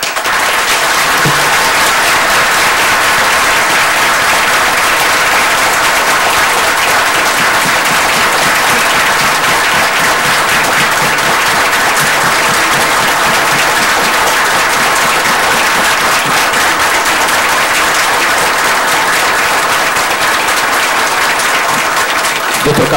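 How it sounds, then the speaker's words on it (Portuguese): Long, loud, steady applause from an audience at a formal gathering honoring Dr. Blatt of the public prosecutor's office, continuous and dense from start to finish. "eu acho que o Dr. Blatt merece os nossos aplausos agora"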